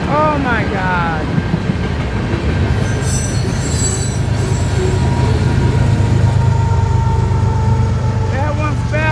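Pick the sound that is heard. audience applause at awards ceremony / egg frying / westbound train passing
westbound train passing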